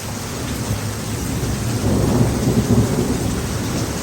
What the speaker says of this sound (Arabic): كتشوفوا البرق ورعد وأمطار قوية جدا.